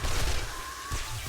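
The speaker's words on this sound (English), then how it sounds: "we're going to play around with the SMG for a little bit" An SMG fires a rapid burst in the survival video game 7 Days To Die, a dense rattling stream of shots that fills the short moment loudly.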